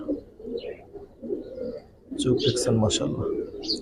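Racing pigeons in a loft give soft, repeated low coos close by, mixed with a few brighter chirps, while people talk over them.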